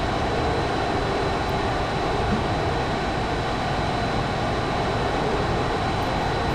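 A jet plane flying in the VR video game Dawn of Jets, a constant loud roaring engine drone that stays steady and unbroken throughout.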